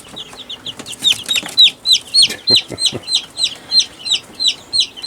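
Backyard chickens clucking and squawking loudly up close in a rapid repeating series of sharp calls, with a few low thuds mixed in.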